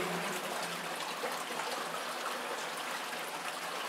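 Water streams steadily through an underground tunnel beneath Perm, the Permyanka river channel flowing as a constant close rush and trickle with no voices.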